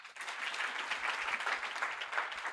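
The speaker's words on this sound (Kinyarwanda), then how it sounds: "mumukomera amashyi" A congregation at a Sunday church service applauding, a dense, even wash of clapping from many hands throughout, moderately loud.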